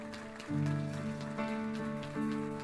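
A church congregation claps for Pastor Henry, a dense patter of many hands that swells under sustained keyboard chords played through the room.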